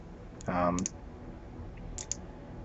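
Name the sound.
computer mouse right-clicking to load ammo in Eve Online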